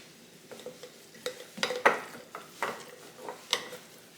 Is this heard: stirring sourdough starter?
yes